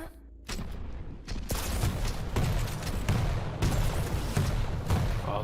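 Rocket fire and explosions in a Quake esports match, a rapid series of loud booming blasts and bursts following a short quiet opening, dense and continuous with heavy low rumble.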